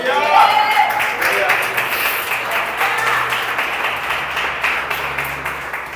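A church audience claps and applauds steadily for several seconds, a dense crowd sound with a preacher's voice speaking faintly over it.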